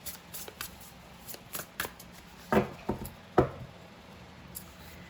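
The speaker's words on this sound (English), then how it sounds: "So I'm going to pull an oracle card for you." Spell-casting oracle cards are shuffled by hand in a series of soft, irregular riffles and taps, close and fairly quiet.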